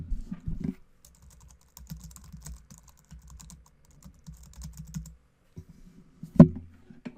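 Typing localhost/WordPress into a web browser's address bar on a computer keyboard: scattered soft key taps in short bursts, close and quiet, ending with one sharp louder keystroke like an Enter press.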